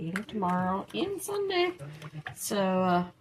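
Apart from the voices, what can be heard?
No everyday noise stands out behind the speech.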